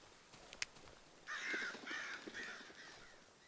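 Crows caw in the Darkwood video game, a sharp call near the start followed by a run of several harsh, rasping caws, moderately loud over a quiet ambient background.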